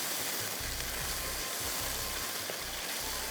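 Qeema pulao ingredients with tomatoes frying in a pan, a steady broadband sizzle with low rhythmic stirring thumps running throughout, no talking.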